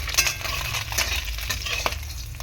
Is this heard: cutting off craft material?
no